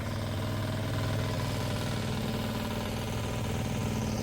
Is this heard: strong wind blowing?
no